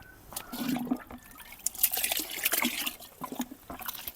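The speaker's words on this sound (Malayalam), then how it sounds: "ഇത് ഒരു കപ്പ് എടുക്കുന്നു ചാരത്തിൻ്റെ കൂടെ ഒഴിച്ചു" Fermented rice water mixed with onion peels is poured out in a quick splashing stream with trickles and drips, fairly close and alone.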